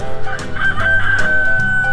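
A rooster crows loudly nearby, one long drawn-out call with a strained, reedy tone, set against faint outdoor background noise.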